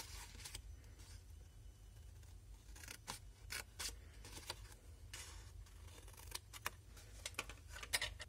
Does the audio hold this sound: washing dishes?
no